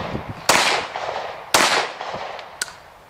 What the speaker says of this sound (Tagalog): mahina lang yung putok. Pop lang yan.